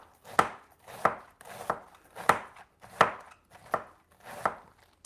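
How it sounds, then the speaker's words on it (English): A knife chops cabbage thinly on a cutting board for okonomiyaki, seven evenly spaced, crisp chops in a steady rhythm, close and clear with no talking. "you want to cut the cabbage as thin as possible as well"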